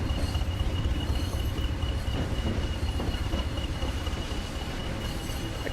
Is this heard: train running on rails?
yes